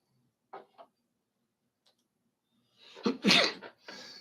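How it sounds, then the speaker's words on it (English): Repeated sneezing: two small faint bursts early on, then after a pause a loud, close cluster of forceful sneezes near the end, with no talking. "Achoo! Achoo! Achoo! Achoo!"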